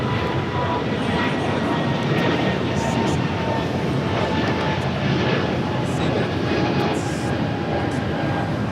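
ITA Airways Airbus A350 jet at Los Angeles International Airport, a steady broadband engine roar with faint tonal whine, continuous and fairly loud throughout with distant background hum.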